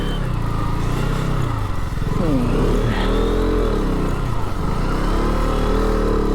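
A motorcycle stuck on a rough, muddy trail revs hard and loud close by, its engine rising and falling in pitch through repeated throttle bursts with clattering.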